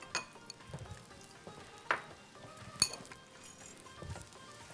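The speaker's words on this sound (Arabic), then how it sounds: "ونحط البصل يتشوح." Onions sautéing in oil in a pan, a light, steady sizzle with occasional stirring scrapes and a couple of sharper clinks, moderately close and fairly quiet, with no talking.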